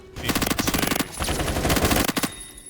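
A video game gun fires in rapid automatic bursts, two quick strings of closely spaced, loud, punchy shots broken by a short pause, heard close up with no talking.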